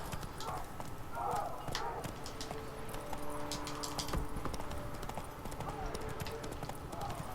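Roach, a horse in The Witcher 3, clip-clops along steadily in close, rhythmic hoofbeats while someone talks over the sound.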